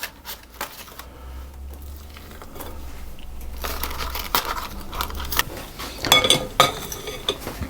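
Muffin batter is scooped into a muffin tin with a cream scoop, heard as close, soft clicks, light metallic clinks and sticky scraping sounds that grow busier toward the end.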